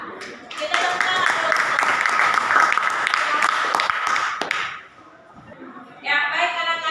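A school classroom claps together for several seconds, a dense burst of handclaps that stops abruptly, followed by a short pause and then a teacher's voice.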